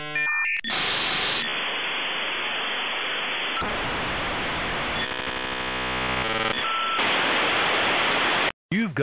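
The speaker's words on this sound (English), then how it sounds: "I remember the sound of the modem squeaking, talking to your computer" An AOL dial-up modem runs through its connection sequence at close range: a few opening tones, then long stretches of harsh hissing static with abrupt changes, a buzzy patterned warble in the middle, and a brief dropout near the end.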